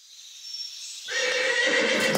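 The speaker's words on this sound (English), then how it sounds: "Rob, the handsome prince of the country, who was born on the same day as Rapunzel, took his horse for a ride in the forest." Horse neighing as a sound effect in a children's fairy tale, a loud whinny that starts faintly and swells into a full, rising neigh with a faint clop of hooves beneath.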